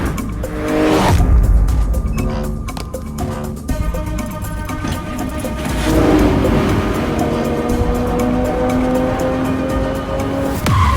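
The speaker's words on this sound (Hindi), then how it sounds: "गाड़ी पहुंच रही है।" A car arrives in a Hindi film scene, its engine rumbling close with a brief tire squeal, set against a loud, continuous music score.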